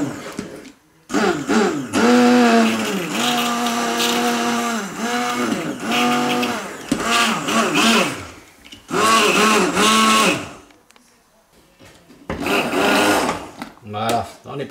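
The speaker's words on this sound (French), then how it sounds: "J'ai un mixeur plongeant comme ça." An immersion blender whirs through a cep mushroom velouté soup in loud bursts of motor whine that rise and fall in pitch as it churns, separated by short pauses.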